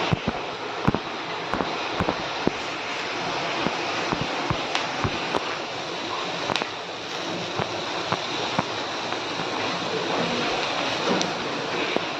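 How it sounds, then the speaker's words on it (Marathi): An electric mixer grinder grinds roasted masala with tomato and coriander for a crab curry, a loud, steady, rough whirring roar with small rattling clicks running throughout, with no talking. "आता मिक्सर लावायचं."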